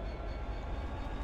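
A train pulling away in Train Simulator: Great British Railway Journeys, a steady low rumble and mechanical hum with faint ticking, continuous and fairly close, no talk.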